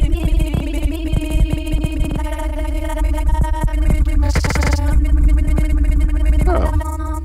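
Granular synthesizer patch in Max/MSP with a reduced number of grains, giving a dense, continuous wall of layered tonal and clicking textures that stays loud and steady throughout, with a brighter noisy burst near the middle.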